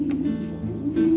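Pigeon squab in a loft, kept by a pigeon breeder, gives low steady cooing that hums continuously at moderate loudness and swells near the end, with no talk over it.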